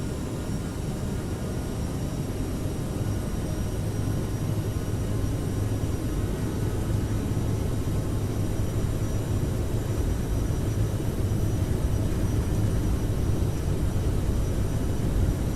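CRJ regional jet engines in Microsoft Flight Simulator spool toward takeoff thrust with a steady, loud, broadband jet roar and a faint tonal whine that holds without pause, no voices.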